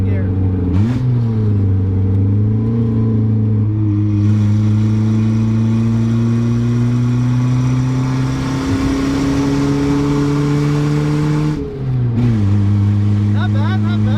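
A 1981 Toyota Corona Wagon on homemade coilovers holds second gear through an S-turn, its steady mid-pitched engine drone rising and falling slightly as the car works through the bends, loud and close inside the cabin.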